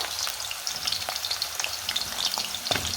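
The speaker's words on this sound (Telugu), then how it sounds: "ఇలా పచ్చిగానే ఈ ఉల్లగడ్డలు అనేది ఆయిల్లో వేయించుకోవాలి" Raw onions frying in hot oil for a potato chicken curry, a dense close crackling sizzle with scattered pops and an occasional stir, steady and alone without any voices.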